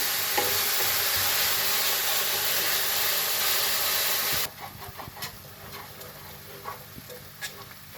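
Chopped onions browning in a hot pan, a loud dense sizzle that suddenly drops to a quieter crackle with occasional stirring clicks and scrapes, close up and alone.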